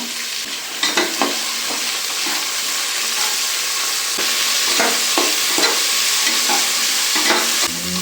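Vegetables and peas fry in a pan for a vegetable bath dish, a continuous loud sizzle broken by repeated scraping and stirring strokes throughout.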